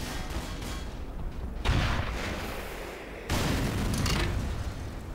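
Heavy cannon fire from a LAV-25 armored vehicle in the shooter Black Mesa: two deep booming blasts a couple of seconds apart, each followed by a long rumbling roll over constant battle noise.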